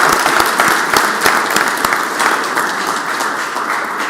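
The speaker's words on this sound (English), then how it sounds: "Clapping for you, Roy." A roomful of people in the Mississippi Senate chamber applauds steadily, dense overlapping claps holding at an even, fairly loud level throughout.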